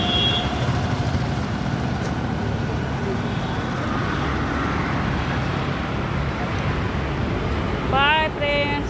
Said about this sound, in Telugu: బస్ వచ్చింది, బస్ వచ్చింది ఫ్రెండ్స్, ఎక్కుతున్నాం మేము